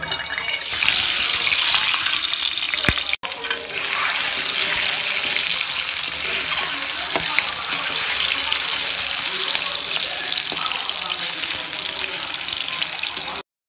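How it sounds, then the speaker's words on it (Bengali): Eggs frying in hot oil in a wok, giving a loud, steady broadband hiss that holds almost the whole time, with a brief break early on. "এবার এই তেলের মধ্যে ডিমগুলোকে একটু ভেজে নিব"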